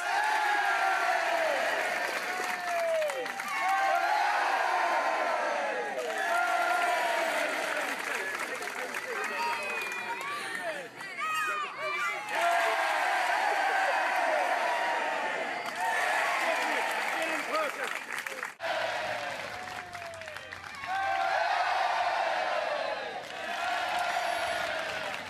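A crowd of about 500 people applauds and cheers in long, loud waves of clapping with whoops, broken by brief lulls, the surges recurring across the whole stretch.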